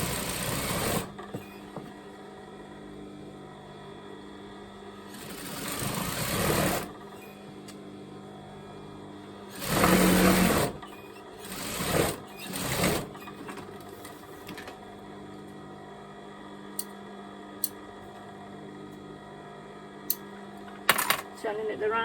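An overlocker stitches a seam on a top in several loud, dense whirring bursts separated by pauses, with small clicks and handling noises in between.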